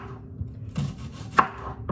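A knife cutting through an onion on a board, a few soft, irregular chopping knocks and crunches over two seconds, close and moderately loud, with no speech.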